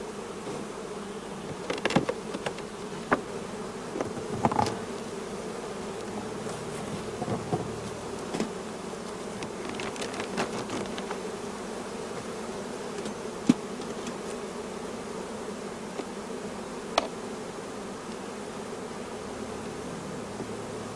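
Honey bees are being moved on frames of brood during hive work. They make a steady, fairly faint buzzing hum that runs throughout, with scattered clicks and knocks from handling the frames.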